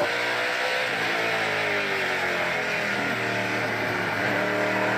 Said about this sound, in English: you can hear that car is not hooking up quite as well